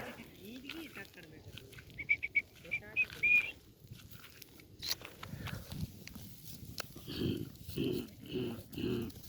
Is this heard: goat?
yes